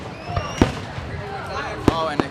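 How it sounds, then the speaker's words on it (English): Fireworks burst in a few sharp, loud bangs with crackling tails on a city street at night, spaced irregularly across a couple of seconds over a steady background murmur. "Oh, and exploding fireworks."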